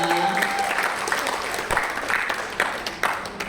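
A room full of people applauding, steady clapping that fills the space and gradually thins out, with a few louder claps near the end.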